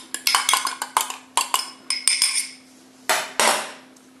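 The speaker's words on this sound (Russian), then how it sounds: "И все это взбиваем в гоголь-моголь, только это гоголь-моголь из перепелиных яиц." Quick metallic clinks and taps of a utensil against a bowl while quail eggs are whisked into gogol-mogol, coming in uneven bursts of strokes with brief pauses, close and moderately loud, with no talking.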